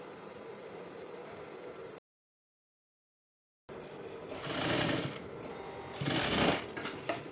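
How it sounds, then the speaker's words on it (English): Sewing machine stitching a sleeve placket on a top, running in steady rapid bursts with a short silent gap and louder revving passages near the end. "when you are sewing, check the back and see that it is not squeezing or it is not folding"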